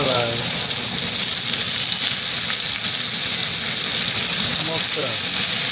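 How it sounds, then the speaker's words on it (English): Homemade copycat breakfast sausage frying in a pan with eggs, giving a loud, continuous close-up sizzle and hiss of hot fat that stays steady throughout, with brief voice-like sounds barely surfacing over the frying. "Now we're cooking eggs with the sausage."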